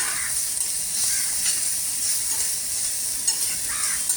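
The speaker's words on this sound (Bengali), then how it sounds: "আমার সমস্ত পেঁয়াজ টমেটো সব ভালো করে ভাজা হয়ে গেছে।" Onion and tomato with a little turmeric frying in a pan, a steady close sizzle with soft stirring scrapes throughout and no talking.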